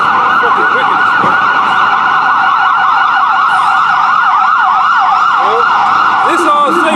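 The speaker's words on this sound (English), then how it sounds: "one ambulance went on the block twice" An ambulance siren wails steadily through the block in a loud, rapid rising-and-falling yelp that holds for several seconds, with a faint bit of street noise near the end.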